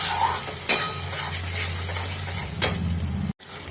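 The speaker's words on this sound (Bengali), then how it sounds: "কাজু বাদাম, বেরেস্তা, গুঁড়ো দুধ এটা দিয়ে দিলাম, দিয়ে এটাকে আরেকটু কষিয়ে নেব।" A spoon stirs and scrapes chicken malai kofta gravy in a pan with cashew paste, fried onions and milk powder, giving a steady close sizzle broken by a few sharp clinks against the metal.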